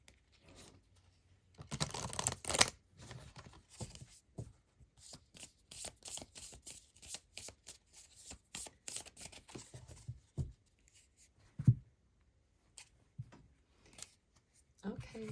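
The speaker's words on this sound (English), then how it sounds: "Let's get you a little rune card from this rune deck" Cards from a rune deck being handled and drawn, dry crisp riffles and rapid flicks in close bursts, a loud shuffling flurry early on, then sparse taps and slides as a card is picked, with someone talking quietly between.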